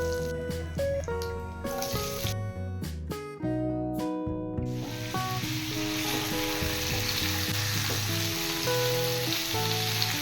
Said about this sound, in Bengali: এঁচোড়গুলো তেলের মধ্যে 2 মিনিট ভেজে নেব